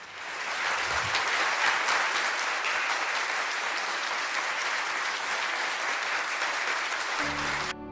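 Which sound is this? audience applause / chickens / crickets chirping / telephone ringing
audience applause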